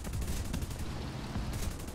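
Aircraft guns and 15mm cannons firing from a French Yak-3 in War Thunder, a dense continuous rattle of rapid shots, loud and steady for the whole stretch.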